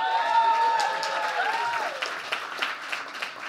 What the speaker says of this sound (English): I hope that the audience will give you a huge spontaneous round of applause.